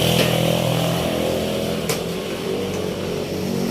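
A Honda Wave 110R motorcycle engine idles steadily up close with its battery removed, a continuous loud buzzing drone with a couple of brief sharp clicks and no talk.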